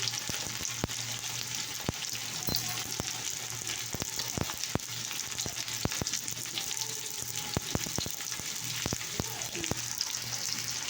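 Food fries in hot oil, a constant close sizzle broken by sharp clicks and scrapes of stirring.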